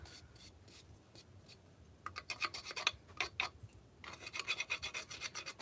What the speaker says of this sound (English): you can literally just kind of rub it against the edge and it'll remove that char